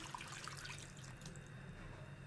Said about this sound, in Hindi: 3 गिलास हमारे पास पानी है, ये हमने डाल दिया